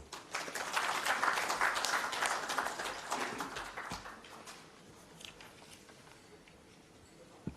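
An audience at an economic forum on Uganda's public debt claps for a professor, a dense burst of applause that gradually thins out and fades to scattered claps.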